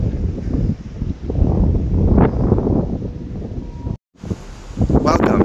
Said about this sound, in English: I was trying to find a spot that was less windy, and it's still pretty windy.